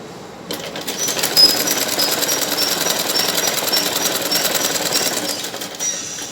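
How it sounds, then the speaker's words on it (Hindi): A sewing machine stitches a belt blouse in a fast, continuous buzzing whir that starts abruptly and runs loud and close until a short pause near the end. "जैसे हम इधर सिलाई लगा रहे हैं ऐसे ही दूसरी साइड भी सिलाई लगाकर तैयार कर लेंगे"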